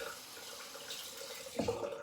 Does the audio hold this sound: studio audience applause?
no